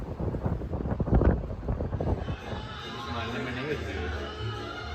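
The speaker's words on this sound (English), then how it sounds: "It is really windy this day, which is also what this park's known for." Gusty wind buffets the microphone at a mountain campground park, loud rumbling bursts at first easing into a steadier blow, with people talking underneath.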